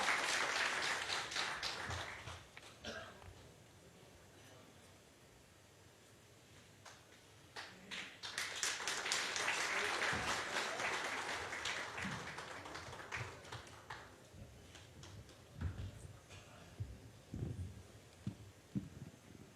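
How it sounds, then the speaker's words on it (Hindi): Audience clapping at a live Bihar political interview event as a former Union minister is welcomed on stage, with uneven bursts of applause rising and falling, swelling midway, then thinning into scattered claps. "जोरदार तालियों के साथ स्वागत कीजिए बिहार की बात के इस मंच पर पूर्व केंद्रीय मंत्री श्री आरसीपी सिंह जी का।"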